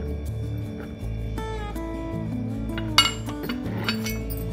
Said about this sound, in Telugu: ఇది ఐరన్ కడాయి, పెద్ద సైజ్, అంటే డీప్ ఫ్రైలకి, వాటికి, ఫ్రైడ్ రైస్కి వాటికి యూజ్ అవుతుంది.